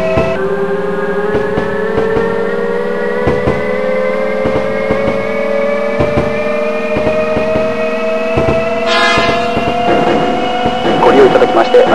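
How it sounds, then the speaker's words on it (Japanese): Sobu Line local train bound for Chiba, departing and running between Ochanomizu and Akihabara, with a rising electric motor whine and regular rail-joint clatter, loud and close. A brief chime sounds near the end. "ご利用の電車は総武線各駅停車の千葉行きです。"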